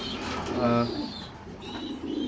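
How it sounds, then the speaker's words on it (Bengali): A female pigeon gives a soft, short coo close by, with a brief murmur of a person talking in the background. "এটা একটা মাদি কবুতর, আপনারা দেখতে পাচ্ছেন"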